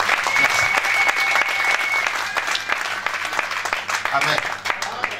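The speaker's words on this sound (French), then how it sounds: "Acclamons très fort pour le Seigneur." A church congregation applauding loudly and continuously, a dense wash of clapping from a large crowd, with a voice speaking over the applause.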